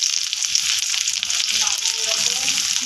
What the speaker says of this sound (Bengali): তেল গরম করে দিয়ে দিচ্ছি পেঁয়াজ কুচি